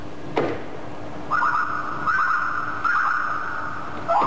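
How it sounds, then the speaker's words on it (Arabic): A nightingale sings in short repeated warbling phrases, several bursts separated by brief pauses, fairly clear against a quiet background, with a soft thump at the start. "صوت البلبل. صح، صوت البلبل."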